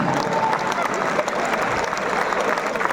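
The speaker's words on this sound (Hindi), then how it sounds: "अपने फ्यूचर के लिए ताली बजाएं।" An audience at a Hindi-language direct selling industry seminar applauds, steady dense clapping from a crowd heard close and loud throughout, with some voices mixed in.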